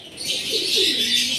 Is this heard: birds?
yes